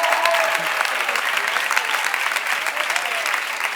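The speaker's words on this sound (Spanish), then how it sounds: "Un fuerte aplauso para Albert," Loud, sustained applause from a talk audience for a guest named Albert, dense clapping from many hands filling the room evenly from start to finish without fading.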